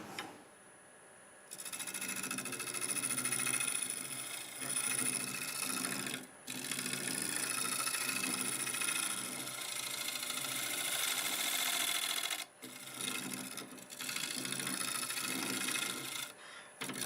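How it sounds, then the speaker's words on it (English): A scraper cutting the outside of a black walnut bowl spinning on a wood lathe gives a continuous close rasping, scraping whir with a few brief breaks where the tool lifts off. "I'll go ahead and finish up the outside maybe with the scraper"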